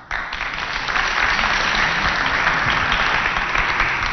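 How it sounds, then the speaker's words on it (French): Audience applauding at a televised Chadian contest show, a dense, loud, steady burst of clapping that continues without a pause. "applaudissez encore très très très fort pour accompagner les 2 candidats à leur place"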